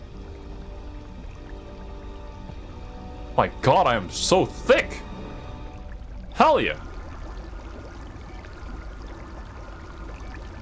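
Flowing water in the Star Wars KOTOR 2 video game makes a steady, moderate pouring trickle throughout, partly covered by short bursts of someone talking.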